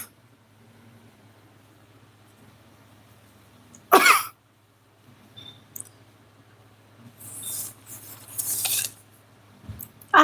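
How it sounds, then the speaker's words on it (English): A dry cough bursts out once, loud and close, followed later by a few quieter throat-clearing and rustling sounds against a low steady hum. "I hate that dry cough."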